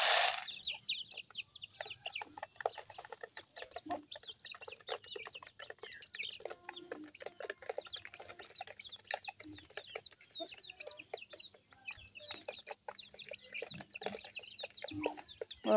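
Native backyard chickens cluck steadily and busily while pecking at scattered Sonali-type poultry feed, many soft overlapping clucks close by with no talking.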